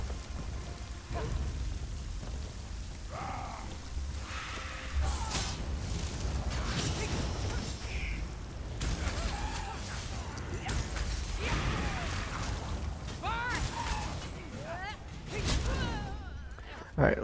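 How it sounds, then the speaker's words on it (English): Summoning a storm atronach in the Elder Scrolls Online video game brings crackling, rain-like hiss and rumbling thunderous bursts that run throughout, with a voice talking over the storm. "Summoning a fucking storm atronach."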